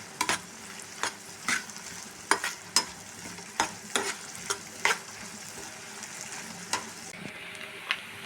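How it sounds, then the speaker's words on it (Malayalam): Cooked white chickpeas and crushed garlic fry in a pan, with a soft steady sizzle broken by sharp clacks of stirring at irregular intervals. "കുറച്ച് വെളുത്തുള്ളി ചതച്ചതിടാം അതൊന്ന് ഫ്രൈ ആയി നേരിയതായിട്ടൊന്ന് ഫ്രൈ ആക്കാം"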